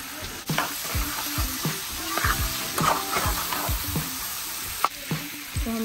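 Tomato puree frying with coriander powder and garam masala for a soybean curry, close and steady sizzling with repeated stirring scrapes and knocks of a spoon against the pan, no voices.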